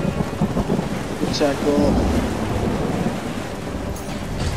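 Thunderstorm with heavy rain in the strategy game Ancestors Legacy, a continuous roar of rain and rumbling thunder, with brief spoken voices partly over it.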